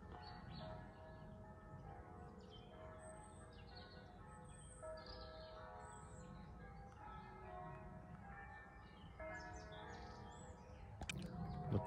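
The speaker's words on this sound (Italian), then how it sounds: "natura selvaggia ma interrotta dal suono delle campane di Zuliano." Church bells of Zugliano, Italy ring steadily with layered, sustained tones, a little distant, while faint birds chirp in the background; no one speaks.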